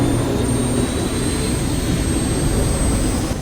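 A plane crashes in the video game Saints Row the Third, heard as a loud, steady roar of jet engine noise that fills the whole clip without letting up. No voices can be heard.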